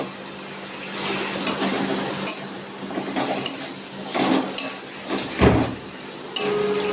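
Potatoes tumbled into chilli-spiced oil in a pan for a Bengali pabda fish curry with ridge gourd, followed by a broad clattering drop, scraping spoon-on-pan stirring and faint sizzling, close and fairly loud, with no talk.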